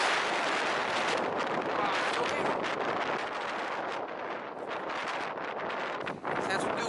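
Strong storm wind roars without a break in an Iceland driving game, a loud, dense rush of gusts with gravel blowing through it.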